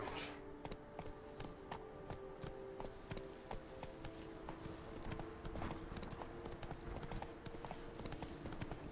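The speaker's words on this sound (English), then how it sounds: "Whoa there, Roach." Hooves of a horse clip-clop in a steady trotting rhythm in the video game The Witcher 3: Wild Hunt, Blood and Wine, a continuous series of crisp taps over a low game background.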